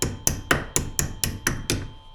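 Eight crisp, evenly spaced hammer taps ring out close by as brake retaining clips are knocked loose on a 1979 Porsche 924, each strike bright and metallic with a short decay, and no voices.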